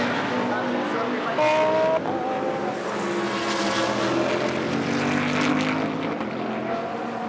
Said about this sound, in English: Now where can this BMW try and find a way past Frank Stippler?